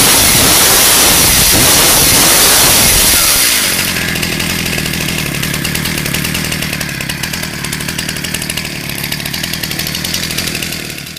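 A rebuilt Stihl MS341 chainsaw fuelled with Aspen fires up and settles into a loud, steady running buzz, close by, with a rough rising start before the even engine drone takes over.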